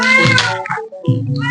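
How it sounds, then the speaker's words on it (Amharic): A cat meows close by, two short drawn-out mews separated by a brief pause, loud and clear. "ድመት አለ። የድመት ድምጽ ምናልባት ከገባው"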